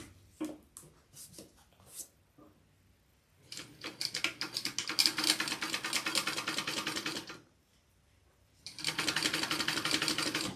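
A sewing machine stitches around a fabric piece in two long runs, a fast, even mechanical whir broken by short pauses and faint handling clicks.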